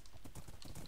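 A Minecraft horse gallops in a race, its hooves clip-clopping in a quick, steady rhythm. The hoofbeats are close and even, heard alone over a short stretch.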